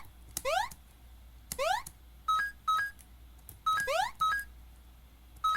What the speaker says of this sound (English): if the coin sound effect is not playing